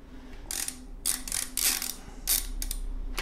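A square taper bicycle crank being loosened, giving a run of sharp ratcheting clicks and metallic bursts in irregular clusters, close and fairly loud, with no talking.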